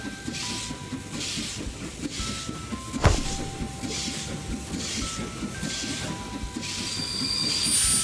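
A train in an Android train racing game rolls along with a steady rumbling, clattering rhythm and faint hiss, punctuated by one sharp metallic bang midway.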